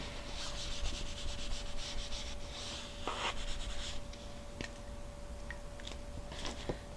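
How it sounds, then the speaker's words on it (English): A pencil eraser rubs back and forth across paper while a Riemann sum calculation is worked out by hand, making steady close scratchy strokes with a few short pauses and taps. "So I'm going to erase this."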